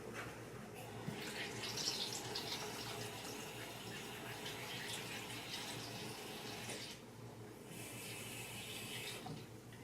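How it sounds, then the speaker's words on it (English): Water pours steadily through a funnel into a bottle with a hollow rushing sound that stays fairly even, briefly changing tone near the end. "We're going to fill the rest up with water."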